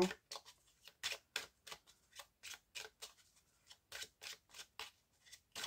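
Lenormand oracle cards are shuffled and drawn close up: a steady sequence of crisp, quiet riffling snaps and flicks in an irregular rhythm, with no talking over them.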